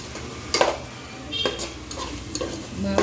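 Spices being stirred into mushroom rice in a pan, with several distinct scraping strokes of a spoon over a soft sizzle, close and fairly loud.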